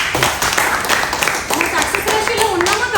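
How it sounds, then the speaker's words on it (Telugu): An audience claps at a business meeting, a dense, steady patter of many hands running loud throughout, with a voice talking over it. "బిగిన్ క్లాప్స్ అండి."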